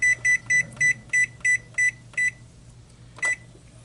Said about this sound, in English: my timer's going off, so that means that my 20 minutes are up on my roast